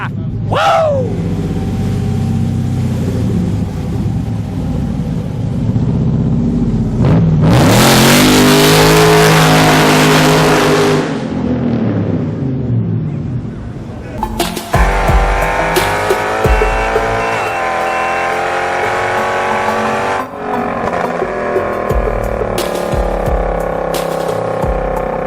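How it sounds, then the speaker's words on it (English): A loud muscle car engine revs hard again and again, roaring up and dropping back with brief tire-squeal-like screeches, close and dominant across the stretch while a voice briefly joins in. "they have their unique loud engine sound"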